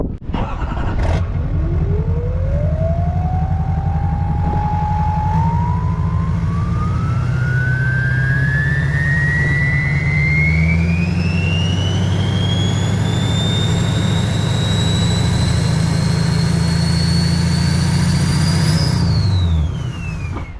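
A rebuilt 6.6-liter Duramax diesel with a 9-blade turbo revs up steadily, a rising turbo whistle climbing higher and higher over a deep, rumbling idle, then drops off at the end.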